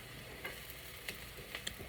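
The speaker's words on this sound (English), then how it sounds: "it's hard to tell the progression of the black beans while you're frying." Black beans frying in a pan for a plant-based pasta salad with mixed vegetables, a steady low sizzle with a few soft stirring clicks and scrapes, fairly quiet and close, with no voices.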